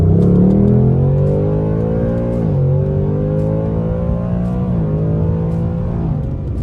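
A 2022 Ford Mustang Mach 1's loud engine revs up through several gear changes, pitch climbing then dropping at each shift, close and continuous with no talking.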